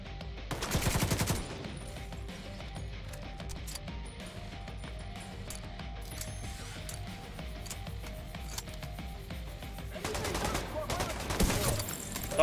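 Weapon fire in the online shooter Tom Clancy's The Division 2 comes as two heavy bursts of rapid shots, one near the start and another near the end, separated by a quieter stretch of in-game ambience.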